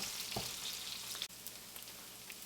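Zucchini and squash fry in a pan with a steady, close sizzle that crackles evenly throughout, with no voices over it.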